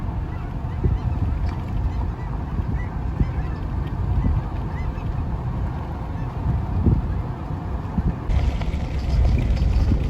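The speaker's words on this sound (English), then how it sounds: "A lot of honkers." A flock of geese honks repeatedly over steady wind and water noise at a flooded wetland, calls overlapping and continuing throughout at moderate distance.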